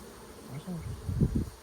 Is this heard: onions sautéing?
no